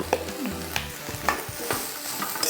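Vegetables and chopped coriander sauté in a pan, the constant sizzle overlaid with repeated scraping stirs and spoon knocks in an uneven rhythm, close and fairly loud, with no speech.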